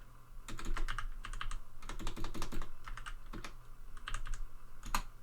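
Close computer keyboard typing in quick bursts of clicking keystrokes separated by short pauses, steady and fairly loud with no voice over it.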